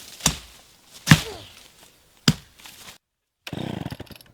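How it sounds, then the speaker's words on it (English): A small old chainsaw revs in several short, loud bursts separated by pauses, then idles briefly with a rapid sputtering putter at the end. "I've never really run a chainsaw before, so this has been an interesting experience."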